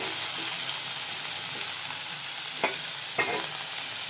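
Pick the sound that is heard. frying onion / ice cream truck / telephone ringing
frying onion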